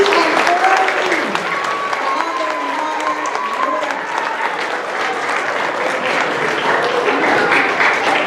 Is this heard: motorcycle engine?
no